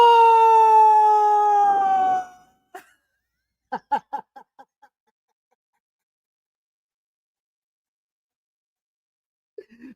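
A dog lets out a long, loud wavering howl that slides downward for about two seconds, followed by a few short yips and whines, then near silence with a faint final whimper.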